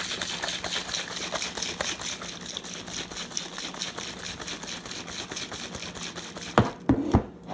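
A closed shaker bottle of Rogue Energy powder shaken hard, a rapid even rattling rhythm that runs close and steady for several seconds before a few louder knocks at the end.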